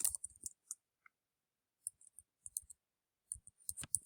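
Sharp computer mouse clicks come in small scattered clusters, close and crisp against near silence, with gaps of a second or more between bursts.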